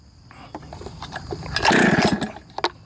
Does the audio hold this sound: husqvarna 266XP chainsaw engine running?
yes